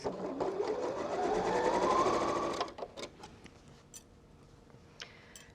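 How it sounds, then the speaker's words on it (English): A sewing machine runs a fabric seam at a steady whir that rises slightly in pitch, stops abruptly about halfway, and is followed by a few faint clicks and handling taps in near quiet. "And just sew with a 5mm, 6mm seam allowance."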